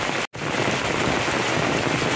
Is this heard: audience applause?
no